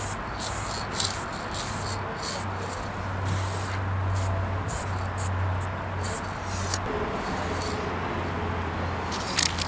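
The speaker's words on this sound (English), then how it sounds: "It definitely sprays fast, I'll give it that." A graffiti spray paint can fitted with a thin cap hisses in long, steady bursts with brief pauses between them, close and fairly quiet, over a low background hum.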